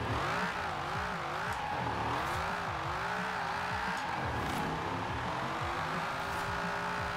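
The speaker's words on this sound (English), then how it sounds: "this thing still has a stupid amount of torque. And it is spinning those wheels constantly" Holden car in Forza Horizon 4, over 1,100 horsepower with huge torque, spinning its wheels nonstop: a loud, steady engine roar with wavering revs and continuous tire squeal, close and unbroken throughout.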